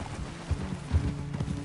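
Hooves thud in quick, uneven beats as a horse sets off on a short race back along a path toward a ranch, close and fairly loud in this brief burst.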